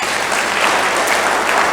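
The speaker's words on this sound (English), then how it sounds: "We should clap for them." Sustained applause from a conference audience at the opening ceremony of an African civil society AML/CFT conference, a dense, steady wash of clapping at even loudness throughout.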